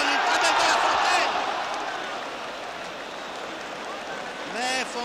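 A stadium crowd at a 1959 France versus Spain friendly football match applauds across a broad wash of sound, loudest at the start and fading slightly, with a commentator talking over it throughout.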